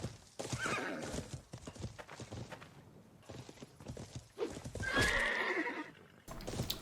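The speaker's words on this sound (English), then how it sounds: "it's time to show you a fumble of a couple 90 guard attempts at stopping a horse." In the medieval game Life is Feudal, a horse's hooves clip-clop in quick bursts and the animal lets out a loud whinny near the middle, mixed with faint clanks of combat.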